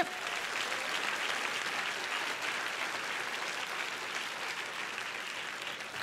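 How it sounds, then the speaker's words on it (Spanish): Steady applause rises from a church congregation during an early-morning prayer sermon, a continuous wash of many hands clapping at moderate distance and fairly low level throughout. "Si ese es el aplauso a tu padre."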